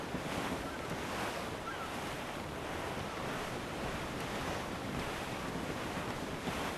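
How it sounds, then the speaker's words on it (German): A strong wind and crashing ocean waves surround a sailing ship in the video game Assassin's Creed IV Black Flag, forming a dense, steady roar of surf and gusting air with no voices. "Es weht ein steifer Wind."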